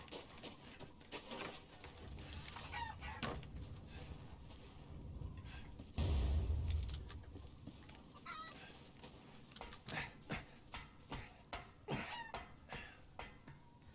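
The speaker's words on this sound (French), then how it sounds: "Cassez-vous de mon chemin, les poules." Chickens cluck and squawk amid busy sound effects in the video game Resident Evil Village, with a loud burst in the middle and steady background clatter.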